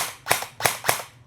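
An airsoft rifle fires three sharp semi-auto shots at an even pace, each a loud, snappy crack with a short tail, close by and with no talking.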